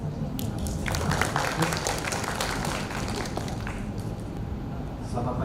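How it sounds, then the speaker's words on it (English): Applause from a seminar audience at a Malaysian engineering society event, a moderate patter of hand claps filling the room steadily for several seconds. "we can give applause"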